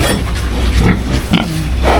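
Pigs at feeding time grunt and oink continuously at close range, loud and overlapping, with snuffling and rustling throughout.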